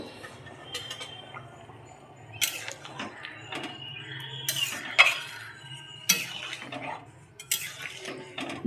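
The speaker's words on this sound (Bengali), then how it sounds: "এবার দিয়ে দেবো ধনে আর জিরে গুঁড়ো দিয়ে একটু নেড়ে দেবো" Meat curry being stirred in a pot after coriander and cumin powder go in, with scattered scraping and clinking of a spoon against metal, irregular bursts over a soft background simmer, no talking.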